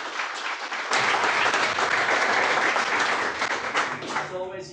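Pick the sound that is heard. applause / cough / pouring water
applause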